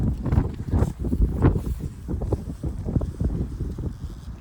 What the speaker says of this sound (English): Sure is windy out here this afternoon.